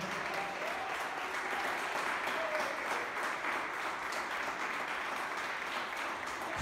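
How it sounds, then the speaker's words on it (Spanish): A church congregation applauding the Lord, a dense, even wash of many hands clapping, sustained and fairly loud throughout with no gaps. "Dale fuerte aplauso al Señor"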